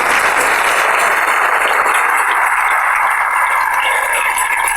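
Church congregation applauding for the King during a 2001 Spanish-language worship service, a loud, dense wash of clapping that holds steady for several seconds without a voice over it.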